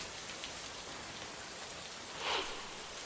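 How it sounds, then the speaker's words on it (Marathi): Heavy monsoon rain pours steadily in a dense, unbroken hiss, with a brief louder swell near the end, and no voices. "गेल्या 24 तासापासून मुसळधार पाऊस पडतोय"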